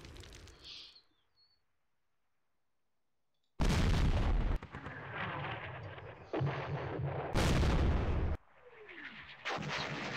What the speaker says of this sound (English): Here comes the barrages.